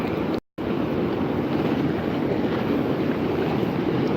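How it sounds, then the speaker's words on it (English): Rushing waterfall and foamy river water heard from a kayak on a rocky stream, a steady loud broadband roar with wind buffeting, briefly cut out near the start. "And there's the waterfall."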